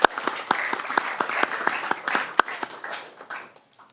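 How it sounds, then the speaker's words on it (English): Sparse applause from a handful of people at a council meeting, separate claps ringing out roughly evenly for a few seconds before trailing off into near silence. "Well done, Director, and a round of applause"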